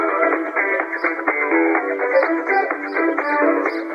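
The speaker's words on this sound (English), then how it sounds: "Owls can hear really well in the middle, so they might hear this." Music filtered to only its middle frequencies, as an owl might hear it: a thin, boxy, radio-like band of melody and chords plays steadily at moderate loudness, with the deep bass and bright treble removed.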